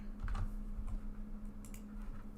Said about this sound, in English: My microphone is in the way and I can't type with both hands on the keyboard.